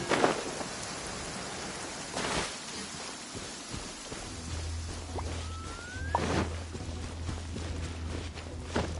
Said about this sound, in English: The sound of the rain scares them away